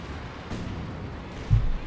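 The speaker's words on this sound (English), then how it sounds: "the anti-tank gunfire" Faint, muffled anti-tank gunfire booms in Company of Heroes 2, a few dull distant shots and a heavier thud near the end.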